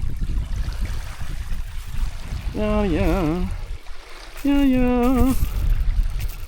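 Water streams steadily out of Muncho Lake in the Yukon, a constant broadband rush running through the whole stretch, with a voice talking over it at times.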